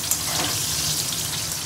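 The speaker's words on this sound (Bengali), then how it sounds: "এখন চট করে আলুটা ভেজে মাটনটা কষিয়ে ফেলি" Potatoes frying in a wok for a mutton dish, a brief steady close sizzle and crackle of hot oil with no talking.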